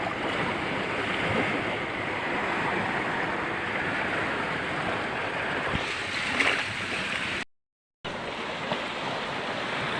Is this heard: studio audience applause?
no